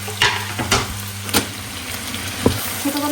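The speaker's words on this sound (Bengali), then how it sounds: "আলুটা ভাজি করে ফেলি। আর আমি আলুর ভিতরেই হচ্ছে কাঁচামরিচ পেঁয়াজ দিয়ে দেবো" Potatoes with green chillies and onion fry in a pan, giving a steady close sizzle broken by a few scraping stirs and soft knocks against the pan.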